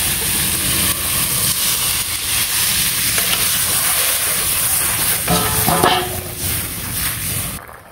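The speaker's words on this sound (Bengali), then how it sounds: "কষানো হয়ে গেছে, আমি ঝোল দিয়ে দিই।" Broth pours into sautéed masala in a home kitchen pan. It gives a loud, steady sizzle and stir that runs throughout, with a brief surge of bubbling near the end.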